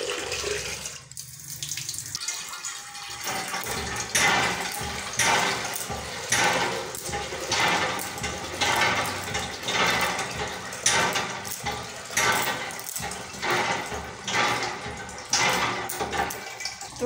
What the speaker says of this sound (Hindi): तो हम ये बाल्टी में पानी लेंगे।